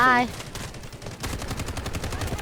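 Gunfire in the Delta Force video game, a loud burst of rapid shots after a brief tonal cue, then dense continuous firing through the rest of the moment, close and heavy.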